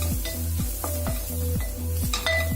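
Onion and masala momo filling is stirred in a hot pan, giving a continuous sizzle with a few light clinks of the utensil against the pan.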